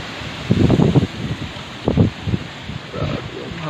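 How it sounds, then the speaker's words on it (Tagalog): Strong typhoon wind roars and buffets the microphone in gusty rushes outside a community where roofs were torn off, with rustling debris in the blasts. "Grabe yung hangin, no?"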